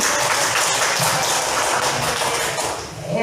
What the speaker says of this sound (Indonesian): bisa tepuk tangan untuk kita semuanya